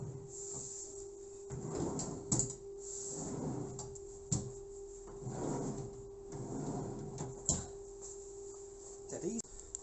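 Wooden drawers on a six-drawer base beneath a hard-sided American queen waterbed slide open and shut repeatedly, with soft rumbling glides and sharp knocks as each one closes, over a steady background hum.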